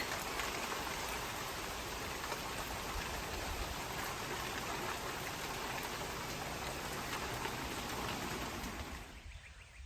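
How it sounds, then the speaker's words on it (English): Heavy rain falls steadily across a garden in spring, a dense, even hiss of drops on leaves and surfaces that holds for several seconds before fading at the very end. "the rain is coming down pretty hard"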